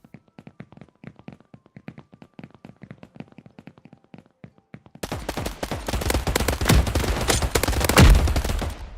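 Rapid gunfire bursts in a PUBG-style battle royale game, starting as sparse sharp taps and shifting midway into a dense, loud barrage of shots with a whooshing sweep near the end.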